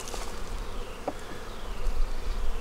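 Honey bees buzz densely and close around an opened hive as they are moved into a bee barn, a steady humming swarm with no talking.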